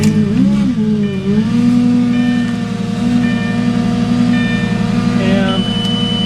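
A 2004 Lamborghini Gallardo V10 E-Gear cranks and fires up, a warbling starter sweep settling into a steady, pulsing idle with a sustained tone from the cabin electronics on top.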